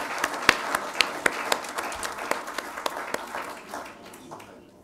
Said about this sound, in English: Yes, applause for the candidate.